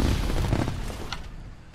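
A burst of crackling booms and pops from fireworks in the video game Mordheim, dense and noisy at first, then fading into a rumbling tail.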